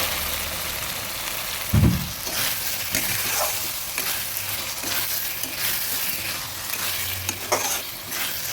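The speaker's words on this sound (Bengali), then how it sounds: "সুন্দরভাবে চালগুলো ভেজে নিচ্ছি" Raw rice grains being fried in a pan for fish head muri ghonto, a continuous close sizzle with stirring scrapes and a low thud near the start, no voices.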